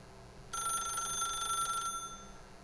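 A telephone bell in a video game rings in one sustained electronic trill of bright metallic tones lasting over a second, fairly loud over a low steady background hum.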